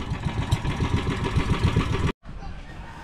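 A nearby engine idles with a steady, rhythmic chugging pulse, then cuts out for a split second and continues more quietly.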